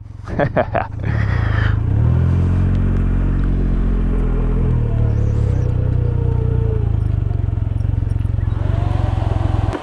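A 2019 Can-Am Ryker three-wheeler motorcycle engine runs steadily while the bike is reversing, a loud continuous low drone after a brief clattery start, with people talking over it.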